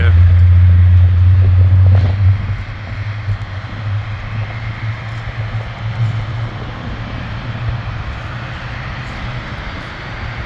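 Airplanes of different sizes landing and taking off produce a loud, low engine rumble that swells near the start and then settles into a steadier, softer roar, with people talking over it.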